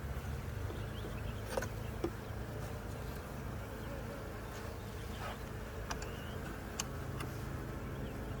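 Honey bees buzzing around a hive during an inspection, a faint steady drone with occasional sharper passes of individual insects, fairly quiet and continuous with no talk.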